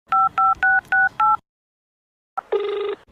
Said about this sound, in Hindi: अभी अपनी मम्मी को फोन करती हूँ